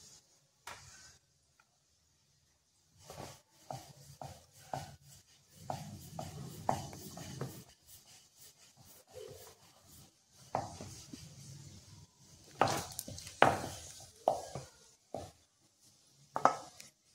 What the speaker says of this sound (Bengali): এই দেখুন আমরা চাকু দিয়ে কিরকম করে কেটে নিচ্ছি।